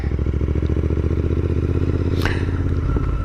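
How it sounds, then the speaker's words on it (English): A Royal Enfield 650cc twin motorcycle, either a Continental GT or an Interceptor, idles with a steady, even, low rumble that stays loud and close, with a brief faint metallic tick partway through. "It's not too loud, but it's got a great little rumble to it."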